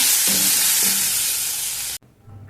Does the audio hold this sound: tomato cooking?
yes